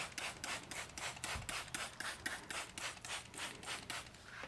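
Steady rhythmic wet sanding of a car headlight with a water-wetted sanding disc, a soft rasping rub repeating about three times a second, close and quiet, with no voices.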